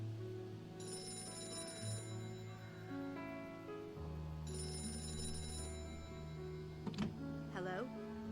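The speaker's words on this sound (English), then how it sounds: "That phone is about to ring." A telephone rings in the Gray Matter video game, two bursts of electronic ringing over steady game music, followed by short sharp sounds near the end.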